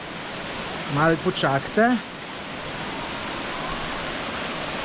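Orglice waterfall at Kamniška Bela roars as a dense, steady rush of falling water throughout, while a person speaks briefly over it near the start.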